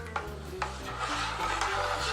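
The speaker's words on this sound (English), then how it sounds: "Gonna give it a stir." Banana wine must being stirred with a utensil, a quiet rhythmic rubbing and scraping repeated several times in a short run, close by with no voices.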